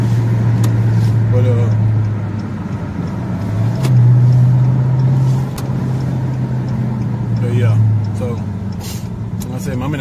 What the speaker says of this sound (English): I'm in the car right now on my way to Dallas.